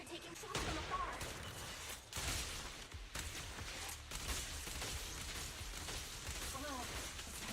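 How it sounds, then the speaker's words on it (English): Sniper shots in a Genshin Impact and Zenless Zone Zero crossover event, loud cracks near 0.5, 2 and 4 seconds, each trailing into a rumble over a busy game mix. "That's a sniper rifle."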